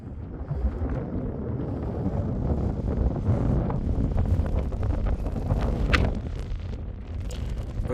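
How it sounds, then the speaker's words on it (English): Strong wind roars across a volcanic crater rim in Lanzarote, a loud continuous buffeting on the microphone that swells and gusts throughout, with no other sounds standing out. "As you can hear, it's really windy."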